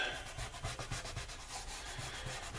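Steady abrasive rubbing, like sandpaper worked back and forth along an edge during front end body repair on a Cajun Commander, with a rhythmic scratchy stroke pattern, close and continuous, no voices.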